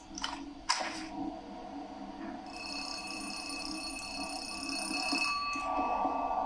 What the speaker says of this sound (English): As you turn away, a phone begins to ring.